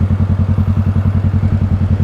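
A sport bike engine with a loud exhaust idles close by in a fast, even, throbbing rumble of steady pulses, alone and loud.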